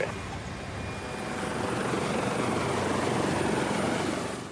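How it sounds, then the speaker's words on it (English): A Coast Guard rescue helicopter runs on the ramp while taxiing for takeoff, its rotor and engine a steady, dense throbbing drone that swells slightly louder, heard alone without voices. "rescue helicopter taking off from the Coast Guard ramp, taxiing to Alpha 2 for takeoff"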